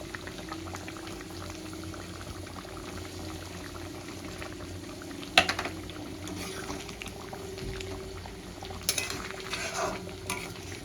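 Boal fish curry boiling in a pan, a steady close bubbling simmer throughout, with a sharp utensil clink midway and a few soft scrapes near the end.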